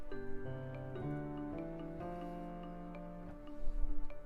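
Four keyboard notes of a C tetrachord play one after another in a rising sequence, each held and ringing clearly, followed by a low thump at the end.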